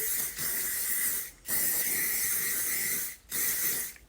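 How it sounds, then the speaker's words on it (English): Three long, close hissing bursts from an aerosol hairspray can, separated by short silent gaps. "Give it a bit of a spray."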